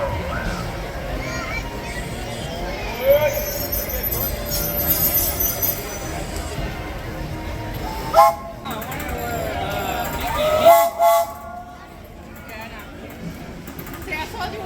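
The Disneyland Railroad train runs on its rails at the theme park, giving a continuous rumble with a few brief squeals and toots. People talk throughout over the train noise.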